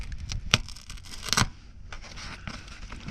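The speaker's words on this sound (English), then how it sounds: "just keep peeling it" Sound deadening material being peeled off the floor pan of a Mercedes W126, heard as close, irregular tearing and ripping bursts with sharp rips between softer scraping.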